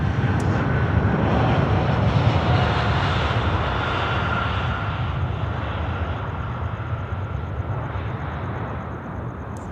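Boeing 787-9 jet airliner on its landing roll-out at Sydney Airport, a loud sustained engine roar and rushing noise that slowly fades over several seconds.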